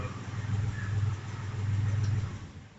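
A Porsche tractor engine runs with a low, throbbing, steady rumble that swells and eases slightly in a slow pulse, heard close and moderately loud without any speech.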